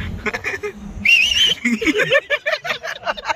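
A whistle blown in a factory setting, a bright warbling tone rising over a busy background of voices and clatter, sounding for about half a second before fading back under the chatter.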